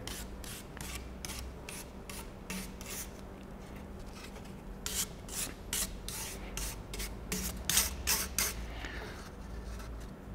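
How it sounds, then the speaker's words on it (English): A wire bristle brush rasps rhythmically over a kudu horn, spreading oil in quick, faint strokes that come in close, repeated bursts. "taking a wire bristle brush, you're just going to brush over the horn, making sure that the oil is evenly spread"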